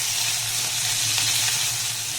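Sliced onion and green chillies sizzle steadily in hot oil while being lightly stirred, a dense, even frying hiss close by with soft stirring scrapes and no voices.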